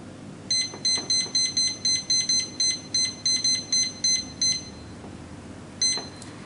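Kitchen timer during home beer brewing from a kit, a run of about fifteen evenly spaced sharp electronic beeps, then a pause and one last beep, clear and alone without speech.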